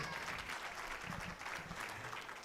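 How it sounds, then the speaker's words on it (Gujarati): An audience claps for a children's stage performance at an ashram event in Surat, a faint, distant patter of applause that is brief and continuous. "બધા એક વખત તાળીઓના ગડગડાટથી એમની જે કૃતિ છે એમણે જે મનોરંજન કર્યું છે એમના જુસ્સાને એક વખત વધાવશે"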